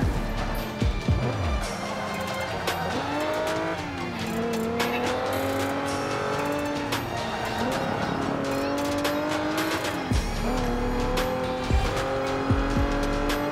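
Race car engines in a racing video game whine and rise and fall in pitch through gear changes, with repeated tire squeals and skids, loud and continuous.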